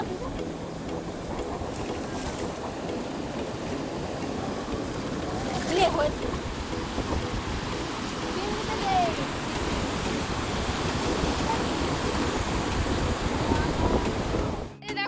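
Sea waves roll and break steadily on the beach at Digha, a continuous close wash of surf with wind noise across the microphone and people talking faintly in the background.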